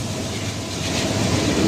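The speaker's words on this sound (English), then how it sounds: "This is a coal train." A passing coal train rumbles steadily and close by, a broad continuous roar of wheels and railcars with faint clickety-clack, no voices.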